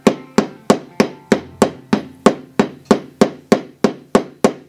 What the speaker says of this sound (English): you got to hammer this in just a little